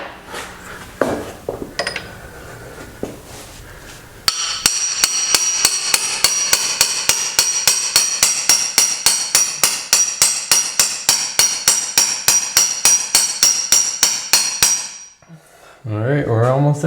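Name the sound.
hammer striking bread to push out a bearing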